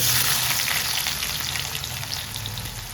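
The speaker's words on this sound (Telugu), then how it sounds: "ఆయిల్ కాగిన తర్వాత ఉల్లిపాయ పచ్చిమిరపకాయ" Onion and green chillies frying in hot oil for a prawn curry, a steady loud crackling sizzle close by that eases slightly over the few seconds, with no voices.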